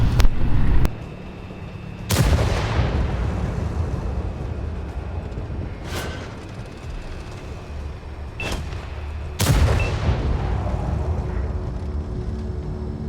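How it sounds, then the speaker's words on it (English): Tank cannon shots in World of Tanks on console: three booming blasts with long rumbling decay, at the start, around two seconds and near nine and a half seconds, plus sharper distant reports over a constant engine and battle rumble. "right here I believe I'm blind firing someone"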